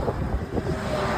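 Headwind roaring across the microphone while cycling a long road stage under hot sun, a steady loud low rumble and buffeting with no voices.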